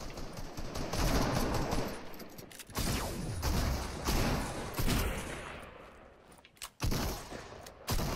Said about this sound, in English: You're getting sniped.